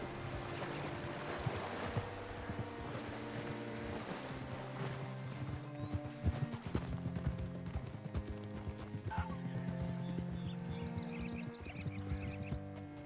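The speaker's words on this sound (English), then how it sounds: "Hitch your horse up here." Horse hoofbeats and a whinny in the Western video game Red Dead Redemption 2, with rhythmic clip-clop under a sustained musical score and ambient outdoor sound throughout.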